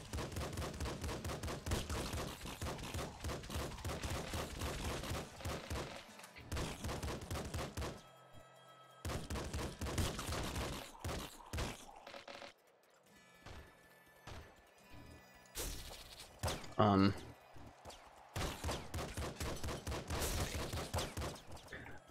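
Rapid gunfire from the video game Nuclear Throne pours out in long, dense bursts separated by short gaps, loud and continuous with occasional crashes and impacts mixed in.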